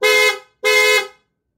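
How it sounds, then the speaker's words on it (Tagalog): Two loud, close horn blasts from a Suzuki Raider R150 first-generation motorcycle after a low-battery fix, each about half a second long, separated by a brief pause, then silence. "loud horn"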